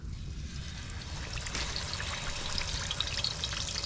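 Fish sizzling in hot oil for a Peshawari fish fry cooked outdoors, a continuous crackling hiss that swells sharply as pieces go in, with a low background rumble.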